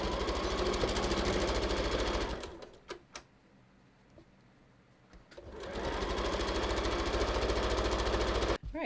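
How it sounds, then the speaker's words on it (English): Sewing machine running loud and close while stitching the center front seams of a fabric dress form cover, a steady rapid whir that pauses for a few seconds midway and then resumes at full speed. "so now I can sew my center fronts together."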